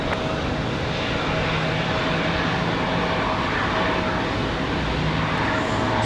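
A United Airlines airliner lands on runway 23 right at Raleigh-Durham International on a windy day, a steady, fairly loud broadband jet roar with a faint tonal whine holding throughout, no voices.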